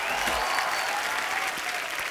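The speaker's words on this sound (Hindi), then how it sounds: "आप सबकी जोरदार तालियों के बीच प्लीज वेलकम अर्चना पूरन सिंह।" Studio audience at a Hindi comedy show breaks into loud, sustained applause, a dense continuous clapping that fills the whole moment without letup.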